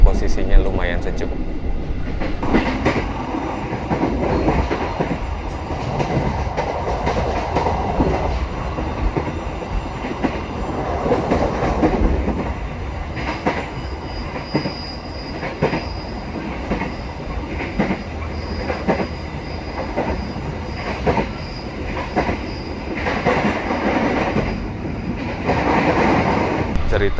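Steady rumble and clatter of a Progo economy-class train heard from inside the carriage during a holiday homecoming ride, with rhythmic wheel clicks, occasional squeals and cabin air-conditioning, loud and continuous with a voice talking now and then.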